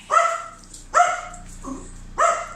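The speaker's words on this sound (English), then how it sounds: "What are you guys barking at?" Three sharp dog barks spaced about a second apart, with a softer yip between them, close and fairly loud with no talking.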